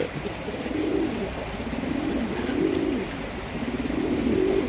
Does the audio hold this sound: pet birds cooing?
yes